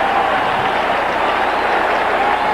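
A packed football stadium crowd at a 1986 Cowboys versus Redskins game roars and applauds in a dense, steady wash of cheering, loud and continuous throughout.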